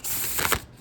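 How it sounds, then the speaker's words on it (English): A deck of cards is riffle-shuffled up close, a quick fluttering rush that ends in a soft snap. "I'm gonna shuffle them because I have to."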